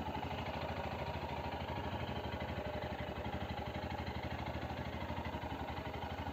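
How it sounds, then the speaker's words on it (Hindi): A Royal Enfield Himalayan BS6 motorcycle engine idles just after starting, with a steady, close, rhythmic low thumping that stays even and continuous throughout, without any voices. "देखिए हम लोगों का बाइक स्टार्ट हो चुका है"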